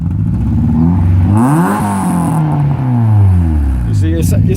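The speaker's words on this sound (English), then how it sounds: "I'm gonna let my buddy rev it up just so you guys can hear it." A Honda Prelude's H22 engine with an idle surge is revved up and falls back, its rising and falling tones loud and close, with a voice talking over it.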